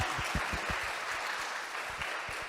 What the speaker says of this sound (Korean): 저희 90분 동안 열정적인 강의를 해주신 저희 강철희 교수님께 다시 한번 열렬한 박수를 부탁드립니다